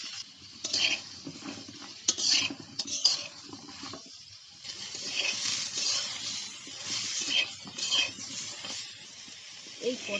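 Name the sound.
frying and stirring pointed gourd with turmeric powder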